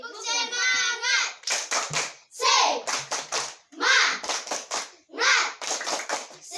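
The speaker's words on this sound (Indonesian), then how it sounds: "Tepuk tangan semangat dulu." A class of schoolchildren clapping in a rhythmic spirit-clap pattern in a classroom, short bursts of quick hand claps alternating with children chanting together.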